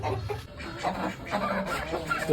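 Chickens clucking close by, a busy run of short squawks and clucks with some background noise.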